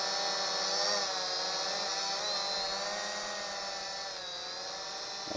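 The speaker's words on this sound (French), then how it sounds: "Notre drone est prêt à décoller." An SJRC S20W camera drone lifts off and hovers, its propellers giving a steady, loud, high-pitched whine with slight wavering pitch, continuous and close throughout.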